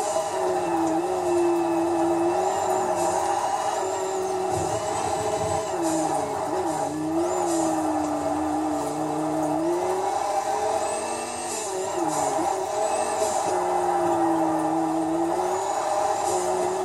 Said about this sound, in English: Listen to that wastegate. That's such an awesome noise.